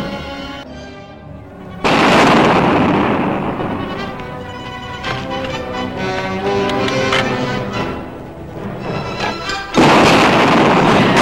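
Loud booming blasts from a grenade explosion in a film battle scene, with a heavy burst followed by a rumbling, crackling stretch and a second sharp blast near the end.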